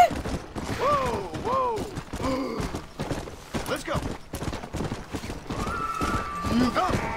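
Galloping horse in the Red Dead Redemption Undead Nightmare video game, with rapid clip-clop hoofbeats running steadily throughout and several loud, rising neighs breaking in over the clatter.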